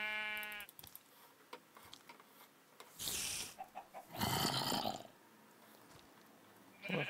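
Sheep in a video game bleat in short, loud cries, several calls spread across the stretch with bursts of game noise and quiet gaps between them.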